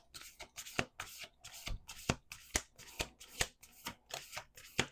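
A deck of playing cards shuffled again and again at close range, a steady run of crisp papery riffles and snaps in an even rhythm, each burst short, with no voices over it.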